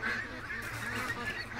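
Ducks in a pen being fed, a brief, steady babble of quacking and honking calls close by, with a noisy background.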